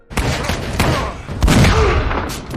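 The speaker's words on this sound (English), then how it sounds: "Chris gives a signal, and Denny lets off shots, distracting Watkins and giving Chris a chance to drop him." Loud, close movie gunfire from a shootout between corrupt cops and a retired soldier's allies, with several sharp broadband shots fired over about three seconds amid a dense, reverberant clatter of fusillade and booming impacts, and no talking.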